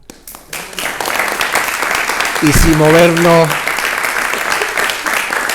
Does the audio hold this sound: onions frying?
no